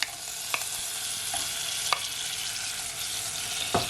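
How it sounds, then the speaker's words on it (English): Butter melts in a saucepan on a stove with a steady, close fizzing sizzle throughout, broken by a few faint clicks and taps of a utensil. "Just gonna allow your butter to melt."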